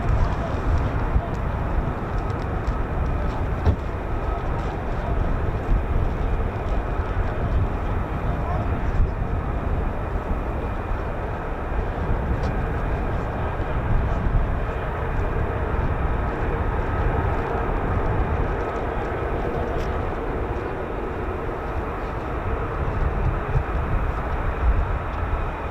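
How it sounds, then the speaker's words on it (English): F-15 and F-35 fighter jets at RAF Lakenheath spool up their engines in a steady, loud roar of jet noise that holds for the whole stretch, with faint talk mixed in. "the sounds of the spooling engines are getting closer"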